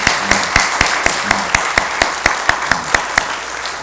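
A church congregation at a Sunday service applauds, with sharp claps landing in a steady, regular rhythm over a soft, diffuse bed of clapping.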